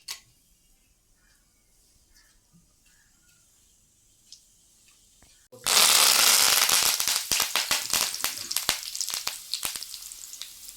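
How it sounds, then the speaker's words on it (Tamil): Mustard seeds and urad dal hit hot oil while a garlic kurma is being made. After several seconds of near silence, a sudden loud, dense crackling and popping begins and keeps spitting steadily. "இப்போ எண்ணெய் காஞ்சிருச்சு ஸ்பைசஸ்லாம் நம்ம சேர்த்துக்கலாம் கடுகு உளுந்து போட்டாச்சு"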